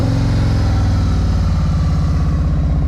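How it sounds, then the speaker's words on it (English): A 2022 Harley-Davidson Road Glide RCX idles through 4.5-inch slip-on exhaust with the baffles cut out, a loud, close, steady low rumble with an even loping pulse throughout. "After you cut those baffles out, it actually doesn't sound too bad"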